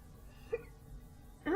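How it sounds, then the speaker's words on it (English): A person gives two brief, sharp hiccups, a small one first and a louder one about a second later, close to the microphone in a quiet room. "Oh dear, hiccups."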